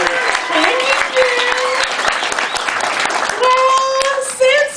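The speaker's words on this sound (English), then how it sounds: "So, a round of applause for Andrea Candy, ladies and gentlemen." Audience applause for a charity show performer, a dense wash of clapping mixed with cheering and voices, loud and close throughout.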